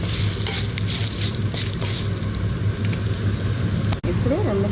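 Onions and cumin seeds frying in oil in a pan for a drumstick-leaf (moringa) chutney give a steady, loud close sizzle with a constant low hum underneath and a brief dip near the end.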